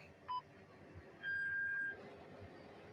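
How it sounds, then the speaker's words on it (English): A short electronic radio beep sounds once inside a Humvee, followed by a longer steady tone, both faint over a low engine rumble. "If you ever been in a Humvee or on a mission, you know that little beep."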